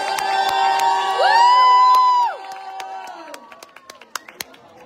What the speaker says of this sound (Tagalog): Palakpak naman mga kababayan!